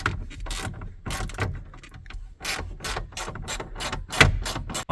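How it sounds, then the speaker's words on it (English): Ratcheting clicks from a 7mm socket wrench as bolts come out of a Ford Ranger dashboard, a series of sharp, evenly spaced mechanical bursts up close with no talking. "using a 7mm, we are going to remove these two bolts"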